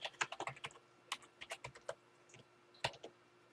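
Typing on a computer keyboard, irregular clicky keystrokes in short bursts with pauses, close and fairly quiet, no talking.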